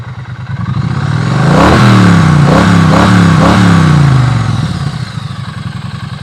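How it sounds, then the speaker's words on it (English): A close, loud Triumph Street Twin motorcycle idles with a lumpy twin-cylinder beat, revs up sharply a few times, then drops back to a throbbing idle. "Why don't we crank up the Street Twin as well also? Sure, why not? And the sweet sound of the twin."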